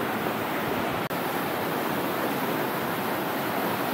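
Rushing water of Ping Nam Stream in Hong Kong, a stream of waterfalls and pools, makes a steady, loud, unbroken roar throughout, with no voices.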